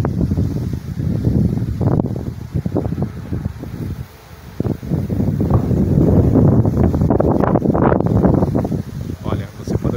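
Strong wind during a rainstorm in Santa Bárbara d'Oeste, gusting and buffeting loudly against the microphone in uneven surges, with a person talking over it.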